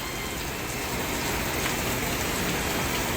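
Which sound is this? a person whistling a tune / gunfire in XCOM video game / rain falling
rain falling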